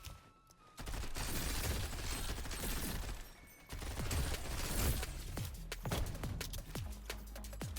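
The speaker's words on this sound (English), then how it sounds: "Grenade. Good grenade hit." A grenade goes off in the sci-fi shooter game Galactic Vault among rapid gunfire. Sharp, loud blasts and bursts of shots crowd together, with a short lull before the fighting picks up again.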